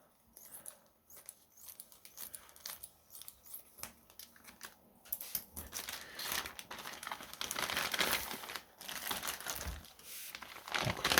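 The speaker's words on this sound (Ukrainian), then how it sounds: "Прислали от в такому пакетику, розпаковуємо." A padded plastic bubble mailer crinkles and rustles as it is handled and pulled open, starting soft and growing louder and busier toward the end.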